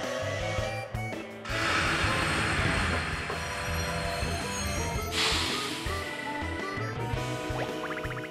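A train locomotive in the video game Paper Mario: Color Splash, a loud continuous rumble of rolling wheels with rhythmic clacking, hissing bursts and high squealing tones layered over game music.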